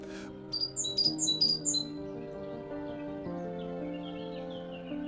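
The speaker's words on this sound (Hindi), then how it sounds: "परिंदे चहचहाते हैं" A few birds chirp in quick high tweets for a second or so over soft sustained music, then the music carries on alone.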